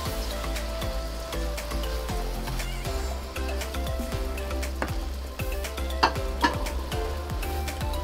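Tomatoes sizzle in a hot frying pan for a vegetable sauce, a steady crackling hiss with occasional scraping stirs, close and continuous, with no talking.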